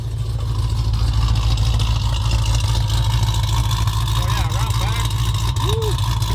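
A 1300-horsepower Jeep Trackhawk with a nitrous setup idles nearby, a loud steady low rumble that holds throughout while people talk over it.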